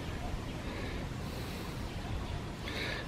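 Water runs steadily through a marsh at the St Lucia Estuary, a constant broadband rush mixed with wind buffeting the microphone, close and unbroken for the whole stretch.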